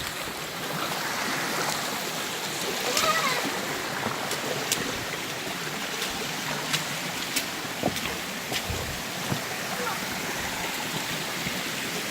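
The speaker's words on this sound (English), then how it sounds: "The waterfall? I think so. It's right around the bend." Waterfall on Makamakaole Stream in Maui, Hawaii, a steady broadband rush of falling water heard from around a bend, moderately distant and continuous, with occasional small splashes and clicks on top.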